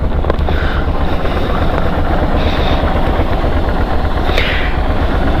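Suzuki DL650 motorcycle with 48,000 miles riding on the road, a steady loud engine drone mixed with wind rush, continuous and close throughout.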